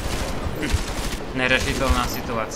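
Heavy gunfire in the video game Deus Ex: Mankind Divided, bursts of shots cracking repeatedly around the player while someone speaks over the din.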